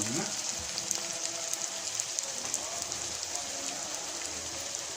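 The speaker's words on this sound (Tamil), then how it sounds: "கருவேப்பிலை போட்டு நல்லா வதக்குங்க" Onions and curry leaves sizzle in hot oil with cinnamon and cloves while cooking a chicken kurma, making a steady, crackling fry throughout at moderate volume.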